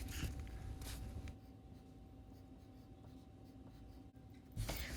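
Pencil drawing simple rectangles with lines on paper, soft scratchy strokes close and quiet in a still room, with short bursts of quicker scribbling at the start and end.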